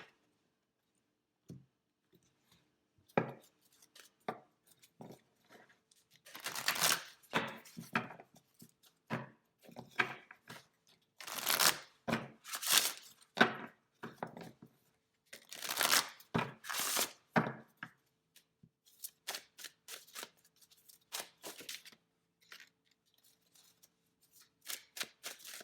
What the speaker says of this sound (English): So as I shuffled and that went in there